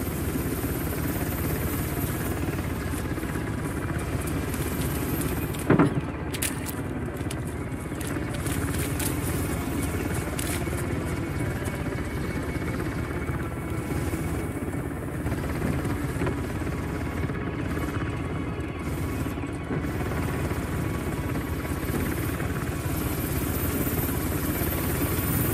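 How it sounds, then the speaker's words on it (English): Helicopter in an Uncharted: The Lost Legacy boss fight, heard as a steady, loud rotor and engine drone that holds throughout amid dense game noise, with brief bursts of impact sound on top. "Another way to bring that chopper down."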